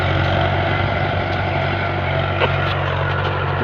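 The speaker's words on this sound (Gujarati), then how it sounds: "तो 475 DI सरपंच है, जूनू मॉडल बहुत मजबूत ट्रेक्टर है गाइस" A Mahindra 475 DI Sarpanch tractor engine runs steadily nearby with a constant low diesel drone and rumble, unbroken and loud from start to finish, no talking.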